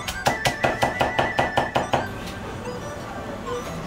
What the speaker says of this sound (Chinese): 再剁成蒜泥